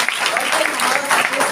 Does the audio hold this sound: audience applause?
yes